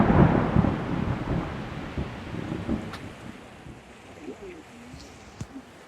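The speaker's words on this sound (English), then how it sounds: "we knew this storm was coming today, but it hit like that, and it is hard rain, lots of rain, and very windy" A thunderstorm with hard, heavy rain and strong wind lashes a sailboat, a dense roar of rain and gusts loudest at the start that eases slightly, with a few faint thumps and creaks.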